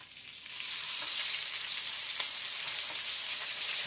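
Chicken liver hamburger steaks fry in a pan with a loud, dense, continuous sizzle that swells up after a quieter first half-second and holds steady, close up, with no talking.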